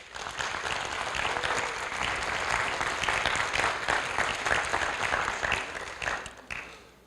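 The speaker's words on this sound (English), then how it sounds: "So these 6 individuals that we're celebrating today need to be just that, celebrated. Okay, so go ahead and give them a round of applause if you would." High school audience on National Letter of Intent Day applauding six signing student athletes, a full steady roar of crowd clapping that holds for several seconds before tapering off.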